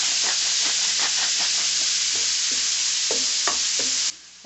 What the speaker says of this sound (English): So we're going to go ahead and add the broccoli